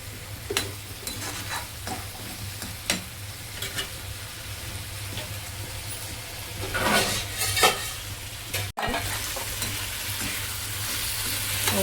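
Ingredients for a chicken curry fry in a pan, an even close sizzle broken by repeated spoon-stirring scrapes and clicks, a brief sudden dropout near the end, and nobody speaking.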